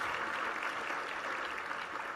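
An audience at an awards ceremony luncheon applauds, a steady wash of many clapping hands at even loudness throughout, with no voices over it.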